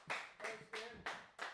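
Quick run of four sharp hand claps in an even rhythm, close and fairly faint, from a small group at a vinyl record shop, with no talking over them.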